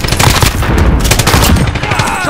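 Loud, dense automatic gunfire from Call of Duty: Modern Warfare, rapid overlapping shots hammering continuously and close up throughout with no pause.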